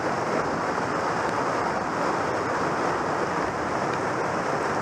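A spring creek swollen by July rain and flooded out to 20 or 30 feet across rushes steadily, a dense, even roar of water that holds constant and close throughout with no voices.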